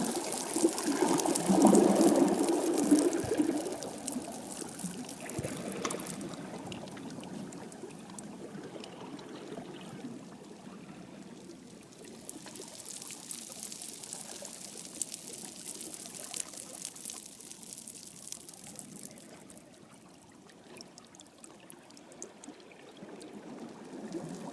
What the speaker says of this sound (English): I'm by the sea, preparing to celebrate the secret love life of bladderwrack